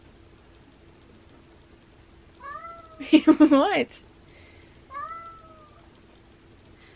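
A cat meows several times from close by, a short call followed by a louder, drawn-out wavering yowl and another brief meow, while a person briefly speaks.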